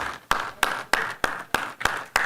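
Steady, evenly spaced claps ring out at a banquet for kids and a Board of Advisors, seven or eight crisp beats in a slow rhythm with faint room noise between.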